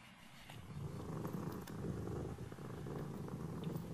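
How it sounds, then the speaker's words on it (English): A cat purring softly and steadily beside a listener in a bedroom, a continuous low rumbling that stays close and even for the whole stretch with no voices. "It's softly purring and nuzzling up against you."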